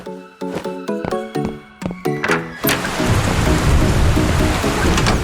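Rain falls steadily as a dense, even hiss that starts partway through, after a run of bright plucked musical notes, and then carries on alone to the end.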